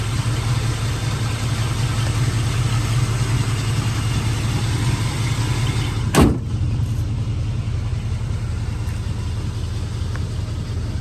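A 1986 Oldsmobile Cutlass 442 with a 307 V8 idles steadily up close, a smooth continuous engine rumble interrupted once by a sharp knock partway through.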